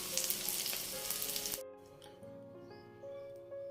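Peanuts, sesame seeds and tamarind sizzle loudly in a pan with a dense crackling hiss that cuts off abruptly partway through, leaving a quiet kitchen hum.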